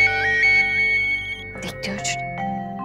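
Mobile phone ringtone for an incoming call, a repeating melodic electronic tune that plays loudly for about a second and a half before people start talking over a fading tone.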